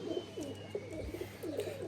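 A Fakir Gul pigeon coos softly in a few low, repeated, rounded calls, faint and close against a quiet background hum.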